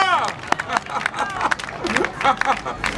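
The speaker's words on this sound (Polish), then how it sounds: "Dajcie oklaski Jezusowi za to, możemy?" An audience claps in response at an evangelism meeting in Praga Północ, Warsaw, a burst of applause near and loud, mixed with crowd voices and a speaker talking over it.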